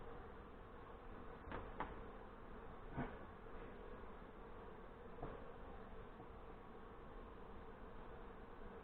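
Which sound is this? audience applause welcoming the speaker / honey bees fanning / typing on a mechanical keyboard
honey bees fanning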